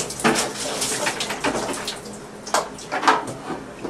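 Water pouring out of a steam cleaner's tank into a drain, an irregular splashing gurgle with uneven bursts and glugs over a few seconds, close and moderately loud.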